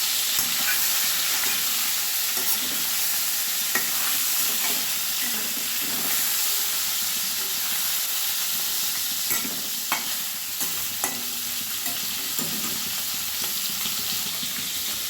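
Snakehead fish sizzle and hiss in a hot pan while being stirred and turned, a constant close frying crackle broken by occasional scrapes of the spatula.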